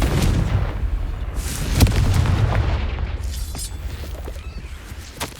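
Fiery Confringo spell blasts in the Hogwarts Legacy video game, a loud booming explosion with crackling bursts over a dense rumbling battle din, repeated impacts throughout.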